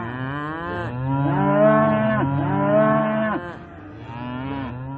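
Several cattle in a herd moo near a railway station, long overlapping lowing calls filling most of the stretch, loud and close, with a quieter moo trailing off toward the end.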